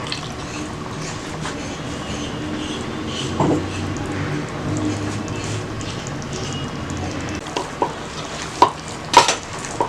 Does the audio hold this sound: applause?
no